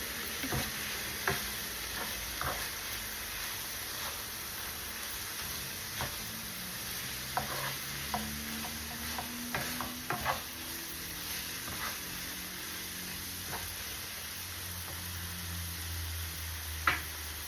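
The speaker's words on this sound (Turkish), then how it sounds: "Karıştıralım." Zucchini dolma filling being stirred with spices and chopped parsley, giving soft scraping and light ticking spoon sounds against the pot over a steady background hiss, with scattered clicks and no talking.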